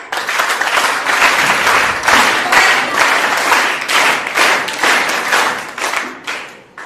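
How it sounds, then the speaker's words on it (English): A seminar audience bursts into applause, loud, dense clapping with several surging waves that carry on for several seconds before tapering off at the end. "Huge round of applause for them."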